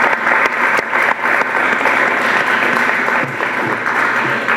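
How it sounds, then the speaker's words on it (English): Applause from the audience at a Somerville City Hall Ward 4 community meeting, honoring the 311 staff, holds as a dense, steady wash of clapping for several seconds, fairly close and loud, with a few faint voices underneath. "So I'd like to give them a round of applause."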